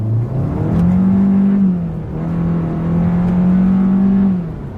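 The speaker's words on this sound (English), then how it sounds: "Let's go ahead and just hit the paddle shifters. That puts you in paddle shift mode, and let's downshift." A 2020 Hyundai Sonata engine revs up in repeated swells as the paddle shifters drop it through successive downshifts, a steady near drone rising and falling with no talk over it.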